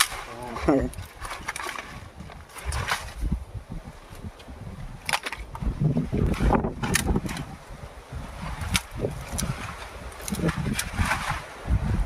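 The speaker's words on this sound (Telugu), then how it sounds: "జాగ్రత్త బాబా గాలి మళ్ళీ వచ్చేస్తుంది" Gusty wind rumbles and buffets the microphone in uneven surges while people talk over it.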